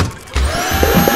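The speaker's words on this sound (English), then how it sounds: "We're shooting them with the vacuum." Video game vacuum in Kill It With Fire sucking up objects, a loud steady whooshing roar that kicks in abruptly after a brief lull, with small clattering bumps as items are pulled in.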